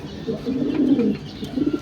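Pigeons at a home loft cooing close by, a low throaty rolling coo repeating over a couple of seconds with faint background noise.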